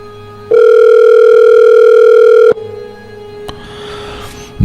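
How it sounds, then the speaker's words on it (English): A telephone call goes unanswered. A loud, steady ringback tone plays for about two seconds, then cuts off, leaving a quieter line with a faint click. "He's just not answering the phone."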